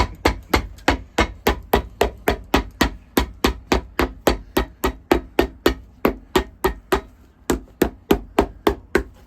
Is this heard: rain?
no